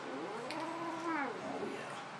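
A cat with bladder atony yowls and complains while being handled, drawn-out rising and falling meows close by, moderately quiet.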